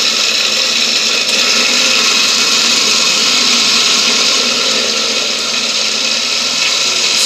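A blender whirs steadily at high speed blending a strawberry smoothie, loud, close and continuous with a bright, grinding motor whine and no talk.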